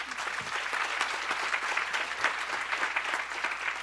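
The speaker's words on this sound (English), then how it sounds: "A big applause again." Audience applause at a health-security leadership plenary session, dense, even clapping from a large crowd lasting a few seconds, with no talk over it.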